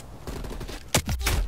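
Video game gunfire: a few loud, sharp shots ring out close by after a stretch of quieter clatter, spaced unevenly near the end.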